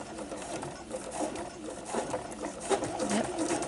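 A sewing machine slowly stitches a fabric glasses case, its needle mechanism whirring and clattering steadily up close, with a faint ratcheting texture.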